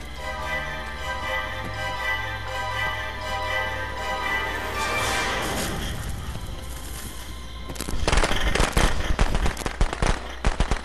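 Gunfire in the horror game Friday the 13th: The Game comes after a sustained electronic hum, with a sharp cluster of several loud shots and cracks bursting out near the end at close range.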